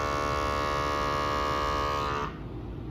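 An electric makeup brush cleaner spins on its high setting, giving off a steady close whine. The whine cuts out abruptly near the end, leaving a softer hiss.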